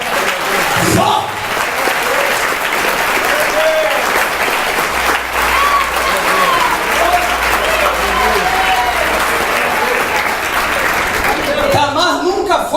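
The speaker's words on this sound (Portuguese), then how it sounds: "Eu quero que você aplauda forte" A church congregation applauds loudly and steadily through the whole stretch, a dense wash of clapping with voices mixed in and a brief shift near the end.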